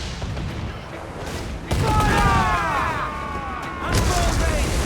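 Ship cannons fire a broadside in Assassin's Creed 4 Black Flag. Loud booming shots come in a few heavy bursts over battle noise. Shouting voices and whistling sounds run between the blasts.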